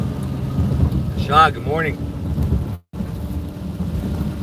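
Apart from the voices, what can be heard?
heavy rain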